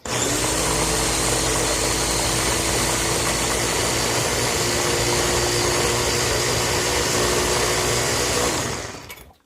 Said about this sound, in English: I think I'm going to give it one more good blend.